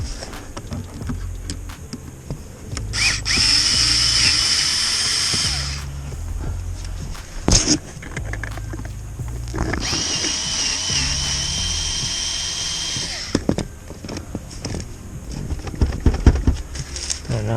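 A power drill whirs in two sustained bursts while backing out a screw inside a Nissan Xterra, loud and close, with clunks and handling noise in between.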